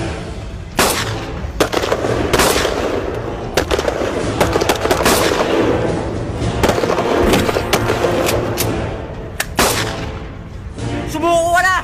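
Guns fire in rapid, loud bursts of sharp cracks, some shots overlapping and others spaced apart, close by and continuing for the whole stretch.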